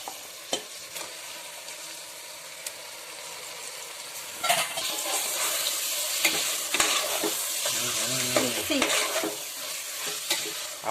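Chicken frying with spices and chili powder in a pan for chicken biryani, a moderate sizzle with scraping stir strokes that become louder and busier halfway through, close, with a few utensil clicks and no talk.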